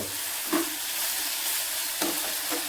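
A mustard and poppy-seed fish curry fries in a pan with a steady close sizzle, broken by two short scraping stirs.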